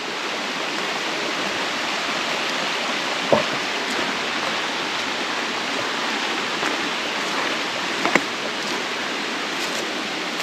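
A creek at Devil's Hole rushes steadily close by, a full, constant watery roar with a few brief splashes and no voices.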